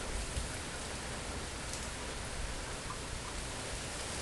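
Steady, even rain hiss fills the whole stretch, a constant broadband wash without any breaks or voices.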